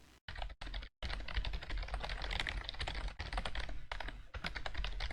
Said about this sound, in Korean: 타건 소리 한번 들려드릴게요.